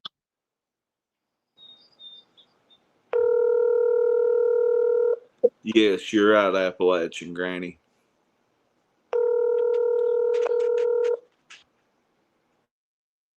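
A telephone ringback tone sounds in two long, steady electronic bursts, separated by a short stretch of speech; otherwise quiet.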